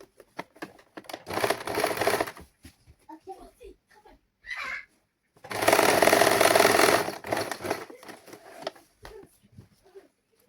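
A sewing machine stitches lining fabric together with saree fabric for a prince-cut blouse, running in two loud bursts with short pauses between them.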